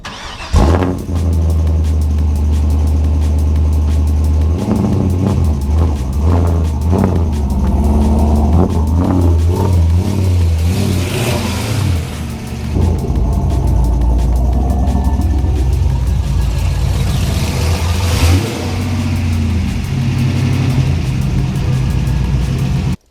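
Car engine running and revving as the car is repositioned during a polyurethane stabilizer bar bushing upgrade, a loud, close mid-pitched motor with repeated throttle rises and falls, no talking.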